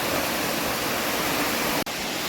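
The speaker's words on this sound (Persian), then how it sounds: "خب این سمت که این آبشار رو داریم" Forest waterfall at Harayrz near Nurabad in Fars, a steady broadband rush of falling water held close and loud throughout, with one brief dropout near the end and no voices.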